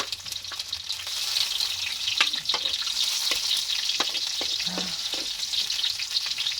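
Tomatoes fry in a pan (kawali) over an ash hearth for misua with patola: a steady, close sizzle runs throughout, broken by irregular sharp clicks and scrapes of stirring.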